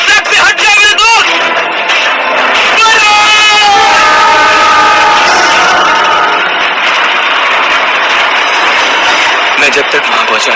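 Train approaching on a railway track, a loud rumbling rush with horn-like tones rising over it, heavy and continuous, with a voice shouting over the noise near the start.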